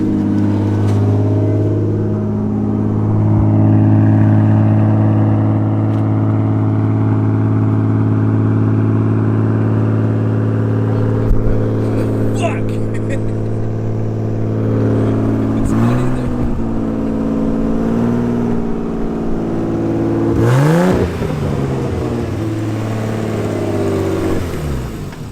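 A Nissan S13 engine idles loud and steady, with several sharp revs and crackling pops that suggest misfiring, while people talk over it.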